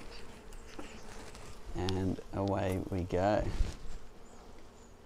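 Bees in a Flow Hive hum around the hive while smoke is applied during an inspection, a steady buzz throughout with someone speaking briefly over it in the middle.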